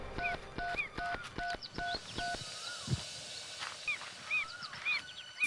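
A phone call being dialed and connecting: a run of evenly spaced keypad tones followed by warbling ringback chirps, heard fairly close with no voices over it.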